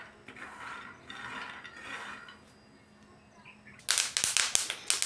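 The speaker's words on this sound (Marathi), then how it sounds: "शेंगदाणे मस्त चटचट असे आपले इथं वाजायला लागले।" Peanuts dry-roasting in a pan over a low gas flame give a soft rustling, then a burst of sharp, close crackling and popping near the end.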